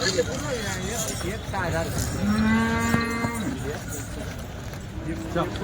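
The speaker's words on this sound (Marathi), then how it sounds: "एकदम क्वालिटीचे बैल असतात" A Khillar bull lets out a long, drawn-out moo close by at a cattle market in Chalisgaon, heard over outdoor murmur and voices talking.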